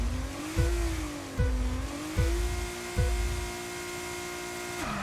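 An F1 car in F1 22 at Miami screams through its gears, the engine note climbing and dropping sharply with four quick upshifts at even intervals, loud and close.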